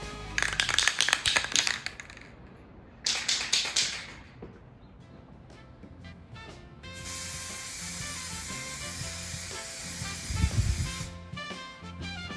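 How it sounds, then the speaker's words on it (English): Spray gun laying clear gloss coat onto a guitar headstock, heard as repeated short hissing bursts, then a steadier, quieter spray over light background noise. "now we're going to clear coat it with about 6 coats of clear gloss"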